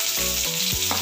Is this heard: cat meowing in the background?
no